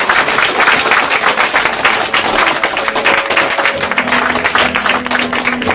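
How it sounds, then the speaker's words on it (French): A room of guests at a birthday celebration applauds, a dense, loud wash of clapping that continues throughout, with faint tonal sounds creeping in underneath near the end. "je vous demande de bien l'applaudir"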